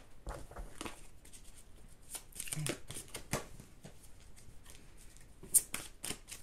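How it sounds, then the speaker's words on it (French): Tarot cards are shuffled by hand in close, quiet bursts of papery riffling and soft slaps. The rhythm is irregular, with a sharper snap near the end. "Je brasse encore."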